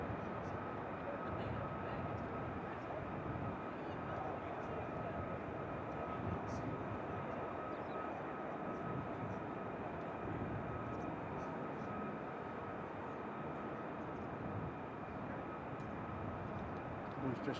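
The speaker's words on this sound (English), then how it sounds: "we've got an engine test over there, and I can definitely hear Osprey at Mildenhall" An Osprey tiltrotor aircraft engine runs at RAF Mildenhall, heard as a faint, distant, steady drone with a constant tone that holds unchanged for the whole stretch.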